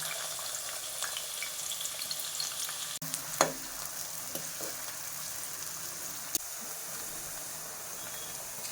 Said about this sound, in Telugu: ఆవాలు వేసాను, యాలక్కాయ వేసాను, ఉల్లిపాయ వేసుకుంటున్నాను